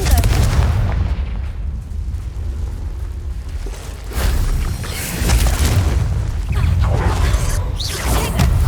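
A Confringo fire spell explodes in Hogwarts Legacy, giving deep, loud booms that strike several times amid rumbling combat effects and lingering resonance.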